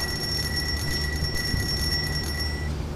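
A steady high electronic tone rings continuously over low background rumble, like a beeping alarm sounding without pause.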